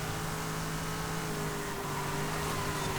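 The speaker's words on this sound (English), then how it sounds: "as you probably can hear, it's got a V8" V8 engine of an Alfa Romeo 8C Competizione in Forza Horizon 5, a steady droning hum held at fairly constant revs, with no voice over it.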